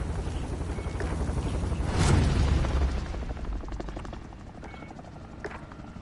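A helicopter in a Call of Duty battle royale match drones with a steady whirring rotor noise that swells near the middle and then eases back, with no talking.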